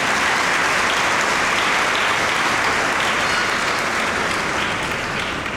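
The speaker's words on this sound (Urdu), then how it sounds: "نرسز کے لیے زوردار تالی جائیں" Loud, sustained applause from a church congregation honoring nurses during a Sunday Mass homily, a dense steady wash of clapping that holds for several seconds and tapers slightly at the end.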